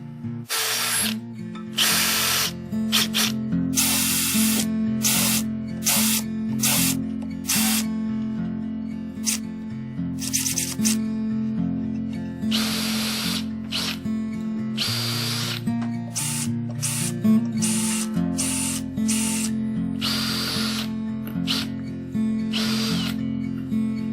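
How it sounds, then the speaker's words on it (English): A power drill whines steadily and loudly, drilling small holes in wood pieces for a picture frame, its pitch rising and falling as it bites in, broken by short gaps between holes. "we'll go ahead and drill some holes into both of these pieces"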